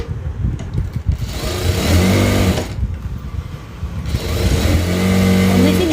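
A sewing machine stitches down a small folded-over fabric edge, whirring in two short loud bursts separated by a pause, close by.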